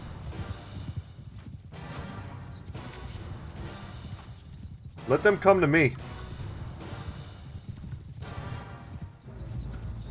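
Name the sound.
horse hooves in video game Mount & Blade 2: Bannerlord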